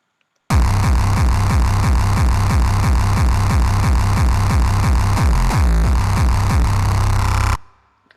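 Hardcore kick drum with its notes raised, played as a loud, dense, distorted pattern of rapid booming pulses with a pitch-shifting sweep partway through, starting and stopping abruptly.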